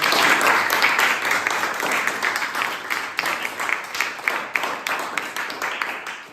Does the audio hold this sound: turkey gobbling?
no